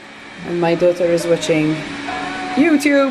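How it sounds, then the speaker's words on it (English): A robot vacuum cleaner runs in the background of a home, giving a steady whirring hum beneath a person talking throughout. "So excuse the noise, because there's the robot vacuum going on."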